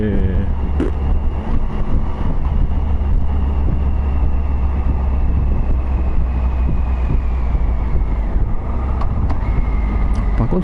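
A new 2016 Triumph Tiger Sport with its stock exhaust rumbles steadily through a ride, its engine drone mixed with heavy wind noise, and a few sharp pops break through the low throb.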